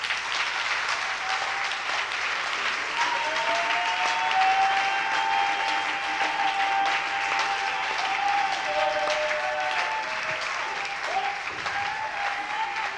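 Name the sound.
congregation applauding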